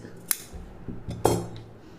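Scissors snipping through silk saree blouse fabric during tailoring, two crisp close cuts with faint metallic clicks in a quiet room.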